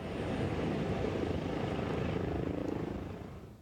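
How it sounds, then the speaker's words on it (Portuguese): A helicopter flies nearby with a steady, dense engine and rotor roar that holds even and then eases slightly toward the end, with no voices over it. "Levou no helicóptero dele Ederson, Richarlison, Gabriel Jesus e Fernandinho."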